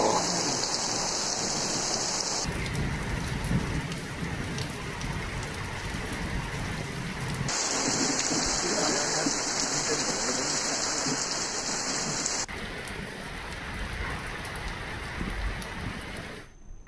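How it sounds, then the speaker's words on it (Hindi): Unseasonal rain with hail in Uttar Pradesh, India: a steady, loud rush of rainfall pattering on surfaces throughout, dense and continuous with no separate impacts, and a high tonal hum coming and going in sections. "जबकि कई जिलों में बारिश के साथ ओले गिरे हैं"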